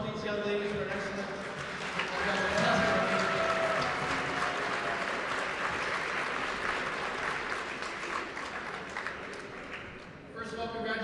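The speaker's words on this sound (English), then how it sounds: "Let's give a round of applause for these young ladies who are excellent." Applause from a crowd in a gym after a junior girls' basketball final, St Mary's Knights vs Korah Colts, steady clapping filling most of the clip with a faint voice underneath.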